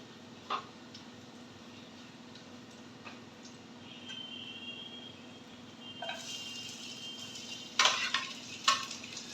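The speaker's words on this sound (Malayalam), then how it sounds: "അതിലേക്ക് നമ്മൾ ഉള്ളി കൊണ്ട് കൊടുക്കും" Onions are fried in a pan on a stove, starting as a quiet background hum with a few soft taps before a brighter sizzling hiss rises, broken by sharp clatters of utensil on pan, with no talking.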